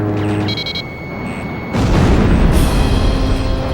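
A heavy boom lands partway through and is followed by sustained rumbling combat noise in the video game Ace Combat 5, loud and close, with a steady tone running underneath earlier on.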